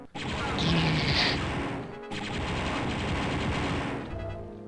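Gunfire from the 1995 video game Star Wars Dark Forces comes as a loud continuous barrage of rapid shots with a crash near the start. It breaks off briefly at about the two-second mark, then resumes and fades out.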